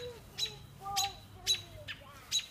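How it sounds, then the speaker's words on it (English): Small birds chirp in short separate bursts, roughly four calls spaced over a couple of seconds, faint and a little distant over a low steady background hum. "Is there another bird over here?"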